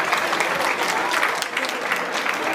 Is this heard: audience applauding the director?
yes